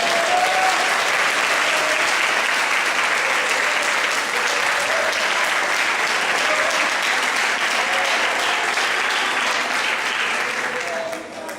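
A congregation at an Easter church service gives a loud round of applause, a dense, steady wash of clapping lasting over eleven seconds and fading at the very end, with some voices mixed in.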